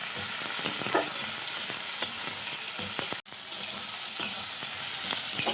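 Chopped onions and green chillies sizzle steadily in a hot oiled pan while a spatula stirs and scrapes them. The frying stays loud and continuous, with a short break partway through and no talk.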